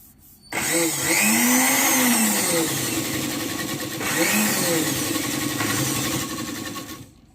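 A sewing machine stitches a petticoat hem in one continuous run, close and loud, its motor whine rising and dipping slightly as it goes, starting abruptly and stopping near the end.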